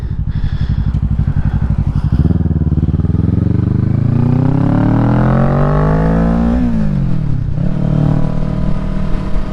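A 2023 Kawasaki Ninja 650 with a loud aftermarket exhaust rides a twisty mountain road, its engine droning close and steady, then climbing through a long rising rev before dropping off and picking up again.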